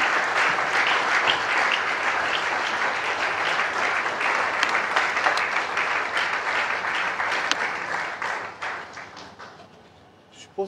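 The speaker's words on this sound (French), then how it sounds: "je vous prie de bien vouloir continuer à ovation" Sustained, dense applause from a conference audience greeting a speaker as he takes the podium at an entrepreneurship event, steady for about eight seconds before thinning out and fading near the end.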